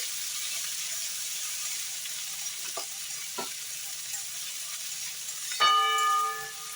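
Sizzling stir-fry of chilli baby corn as spring onion greens go into the hot pan, a steady frying hiss with a few light clinks and a sharp metallic ring near the end.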